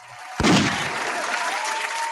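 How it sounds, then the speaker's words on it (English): A round of applause breaks out abruptly with a sharp onset, then continues as moderate, steady clapping with a faint tone underneath. "a round of applause for that"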